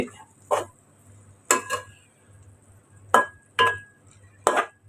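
A spoon stirs green beans in coconut milk in a pan, making about six short scraping, clinking strokes against the metal with quiet pauses in between.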